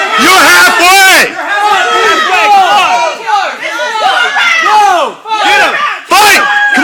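Spectators yell and cheer loudly during a Muay Thai test, with overlapping shouted voices that rise and fall in continuous bursts and barely pause, close and energetic throughout.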